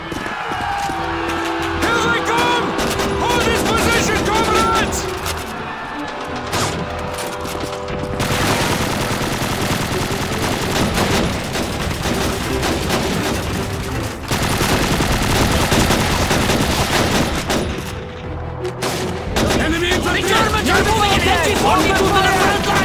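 Intense bursts of machine-gun and rifle fire crackle through an enemy attack in the World War II shooter Call of Duty 2, loud and continuous with brief lulls, while soldiers shout orders over the battle.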